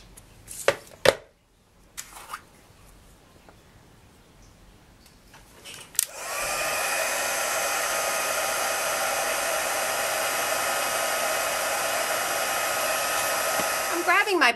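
A few sharp clicks and taps give way to a heat tool switching on and blowing in a steady, loud whirring hum, used to emboss white powder over a Versamark-stamped image in a papercraft setting.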